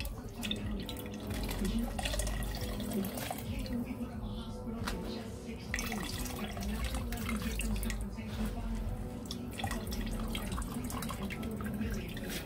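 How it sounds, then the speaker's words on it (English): Liquid being squeezed and wrung out by hand for a Guyanese saltfish and vegetable cook-up rice, a steady wet trickling and dripping into a bowl while a person talks. "The second set of squeezing for the liquid"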